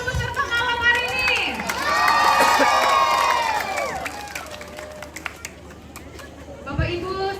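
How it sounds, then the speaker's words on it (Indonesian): Cheering and clapping from an audience for the participants in an Easter camp church singing competition in Sangalla, a loud crowd roar with shouts that peaks and then fades under chatter. "Mari kita berikan tepuk tangan bagi semua peserta."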